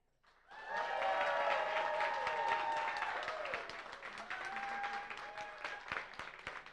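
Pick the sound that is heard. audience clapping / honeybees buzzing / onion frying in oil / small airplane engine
audience clapping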